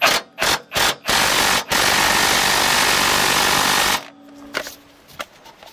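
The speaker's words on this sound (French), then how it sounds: "Là, avec la clé à choc, ça doit mieux envoyer des vibrations." Close, loud impact wrench hammering on a rear axle bolt of a BMW E91, several short bursts followed by one sustained rattling run of about two seconds, then quieter clanks.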